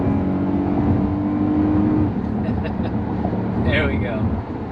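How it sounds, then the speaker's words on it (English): A 2009 Acura MDX engine pulls hard under acceleration on a highway, with a steady low drone and road rush running throughout and a raised voice breaking in near the end. "let's give it some gas here on the highway and see if we can pass some people"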